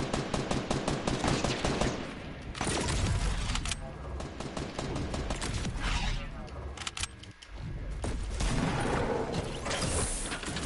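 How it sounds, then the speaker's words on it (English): Rapid video game gunfire in Playground, dense repeated bursts of shots that run almost throughout, loud and close, with a couple of short pauses and players talking over it. "he's shooting at us"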